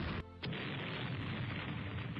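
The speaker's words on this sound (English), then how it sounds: "Critical hit, magazine explosion." A warship's magazine blows up in the naval strategy game Rule The Waves, a sudden sharp burst followed by a loud, sustained rumbling roar, with no voices.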